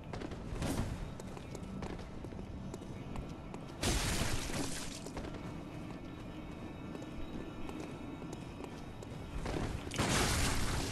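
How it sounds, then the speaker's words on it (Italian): Loud, sharp projectile explosions in Bloodborne with a crashing, shattering quality, one near the start and another near the end, set against continuous rumbling game noise. "Già che l'esplosione del proiettile è proprio imponente."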